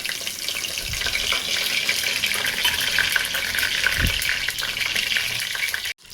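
Bay leaf, cumin seeds and curry leaves hit hot oil in a village kitchen, giving a steady, close, hissing sizzle with a few soft knocks before it cuts off abruptly at the end.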